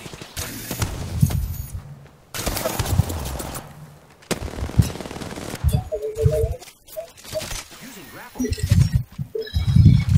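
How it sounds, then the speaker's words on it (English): Rapid automatic gunfire and heavy rifle shots from the Apex Legends video game, an R99 submachine gun and a charge rifle, crackle in loud bursts amid game effects, with players talking over the action. "They're shooting at me"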